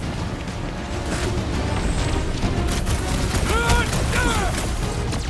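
Gunfire and booming impacts from a rooftop firefight in Guardians of the Galaxy, a steady loud battle din with characters shouting over it.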